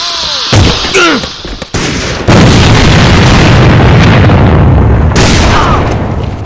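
Loud grenade explosion in the shooter game AVA: a heavy boom followed by a long rumbling, crackling roar, after brief scattered gunfire and effects.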